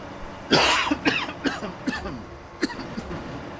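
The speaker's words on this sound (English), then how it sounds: "One thing about me, I will cough lots." A man coughs repeatedly in short, sharp bursts, a rough first cough followed by a string of smaller hacks and throat clears, close and loud.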